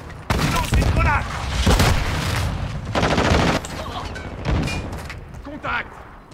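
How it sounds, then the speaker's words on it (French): Explosions and gunfire in a video game: heavy, booming blasts mixed with rapid shots, loud and close, with a voice speaking between them. "Lancez de grenade."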